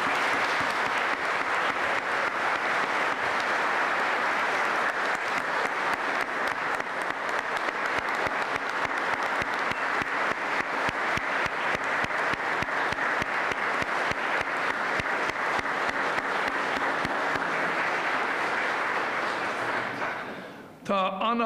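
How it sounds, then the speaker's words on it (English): Graduation ceremony audience at Griffith College Cork gives a long, steady round of applause. Dense, even clapping from many hands runs at a constant level for about twenty seconds, then stops abruptly. "I'd like to invite everyone here to give a special round of applause to all our graduates"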